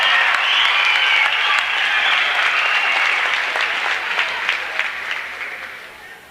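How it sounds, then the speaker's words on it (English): Crowd applause fills a gym at a girls' varsity high school basketball game, West Rutland vs. South Royalton, honoring a senior player. Steady, dense clapping holds loud and then slowly fades. "big round of applause for senior Marissa Samirsky"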